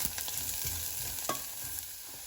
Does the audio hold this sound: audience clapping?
no